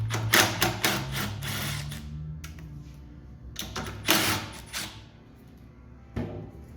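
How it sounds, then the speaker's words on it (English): Socket wrench working the 10mm nuts off a generator's air cleaner assembly, close metallic ratcheting clicks in two bursts separated by a quieter pause, with no speech. "Remove the two nuts that holds on this air cleaner assembly."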